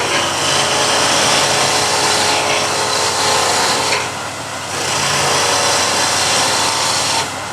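A half-inch skew chisel shaves a thin wood spindle turning on a lathe, giving a loud, continuous hissing cut that briefly eases off in the middle before resuming, with no talk.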